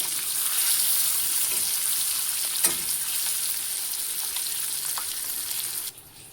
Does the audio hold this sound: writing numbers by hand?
no